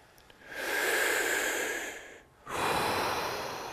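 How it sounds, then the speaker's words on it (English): Deep, slow breathing from a Wim Hof Method exercise: a long, full breath through the airway, a brief pause, then another breath starting, close and clear with no talking. "Keep breathing. Deep breath in and let it go."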